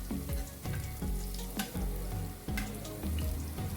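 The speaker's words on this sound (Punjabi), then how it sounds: "ਤਿੰਨ ਚਾਰ ਕਲੀਆਂ ਲਸਣ ਦੀਆਂ ਲਈਆਂ ਬਰੀਕ ਕੱਟ ਲਈਆਂ ਸੀ ਹੁਣ ਆਪਾਂ ਇਹਨੂੰ ਭੁੰਨਾਂਗੇ" Finely chopped garlic, three or four cloves, fries in a pan with a loud, close sizzle, broken by repeated scraping stir strokes and utensil clicks throughout.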